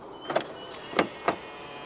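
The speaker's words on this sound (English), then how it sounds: "To lock the car, press the ribbed area on the driver's side door handle." Keyless locking of a 2017 Toyota Corolla Altis 1.8 G by touching the driver's door handle: three short, sharp mechanical clunks spaced apart, close by and fairly loud against a quiet background.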